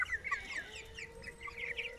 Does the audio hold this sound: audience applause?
no